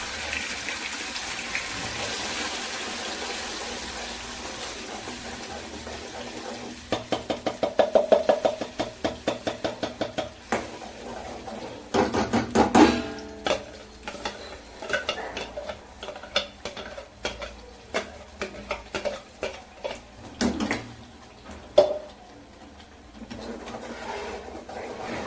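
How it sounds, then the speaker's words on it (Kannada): Puliyogare gojju sauce with raw onion boiling and spluttering in a pan on a low flame, with bursts of bubbling pops, a metal spoon scraping and clinking, and stretches of quieter simmering. "ಇವಾಗ ಚೆನ್ನಾಗಿ ಕುದೀತಾ ಇದೆ, ಎಗುರ್ತಾ ಇದೆ ಆ್ಯಕ್ಚುಲಿ ಎಲ್ಲ ಕಡೆ"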